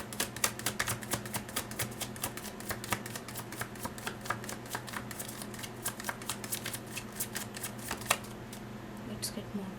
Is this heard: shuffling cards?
yes